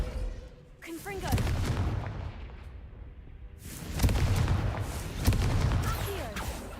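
Fire spell explosions from the Hogwarts Legacy video game, a booming blast near the start and two more heavy bursts later, each with a crackling rumbling tail, over continuous game ambience.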